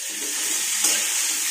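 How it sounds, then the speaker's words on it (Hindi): Vegetables frying in a pan with a masala of ginger, garlic, cumin, turmeric, red chilli and a little yogurt, giving a steady close hiss and sizzle that runs evenly throughout with no talking. "सब्जी अच्छे से भून लेते हैं,"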